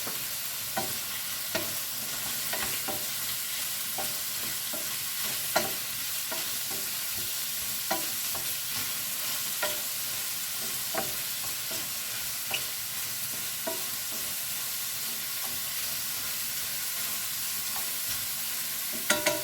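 Shrimp, mushrooms, scallion whites, garlic and ginger fry in hot oil with a continuous close sizzle, punctuated by regular scraping knocks of a utensil stirring the pan.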